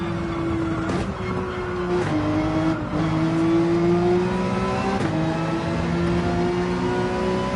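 A car engine in Gran Turismo 7 revs hard and pulls up through the gears, with the pitch rising and then dropping back at each shift. The engine stays loud and close throughout, with a brief tire squeal and no voices.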